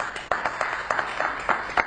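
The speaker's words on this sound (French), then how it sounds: "On applaudit pour toute l'équipe technique" Studio audience at a televised French debate claps for the technical crew, a moderately close burst of sparse, distinct handclaps with uneven rhythm over a couple of seconds.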